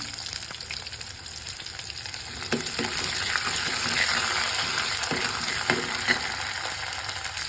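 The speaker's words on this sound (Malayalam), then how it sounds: "ഇതിലേക്ക് നമുക്ക് വെളുത്തുള്ളി ചേർത്തെടുക്കാം. ഉള്ളി ചേർത്ത് കൊടുത്തിരിക്കുകയാണ്." Onion and garlic sizzle in a hot pan, a steady hiss with occasional scraping stirs and clicks from a spoon, close and continuous without talk.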